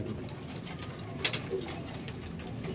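Abluk pigeons coo softly and fairly distantly, with a couple of brief sharper calls standing out against a quiet, steady background.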